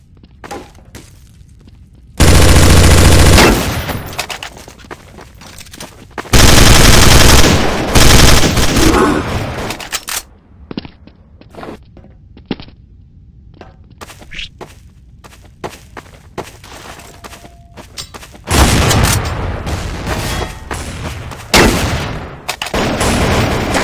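Counter-Strike: Source gunfire in long, loud bursts of automatic shots, split by quieter gaps with scattered single shots and footsteps, all with no talking.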